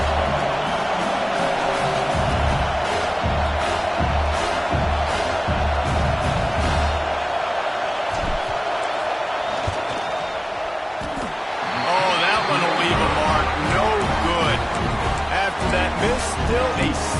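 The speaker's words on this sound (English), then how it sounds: "This crowd trying to do its part to get inside the kicker's head." Stadium crowd noise in a Madden football video game as the field goal unit lines up on fourth down: a dense, steady roar of cheering and whooping that swells louder near the end, with commentary voices over it.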